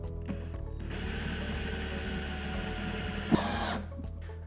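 A power drill drives a screw into a plastic bucket for a household-item dust collector, a steady whirring grind with a ratcheting clatter, close and fairly quiet, ending in a brief louder burst before stopping.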